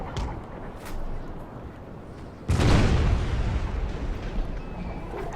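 Cannon fire in a naval battle in the Imperial Splendour strategy game set in the North Sea: one deep, booming blast midway, followed by a long rumbling decay over low background ambience.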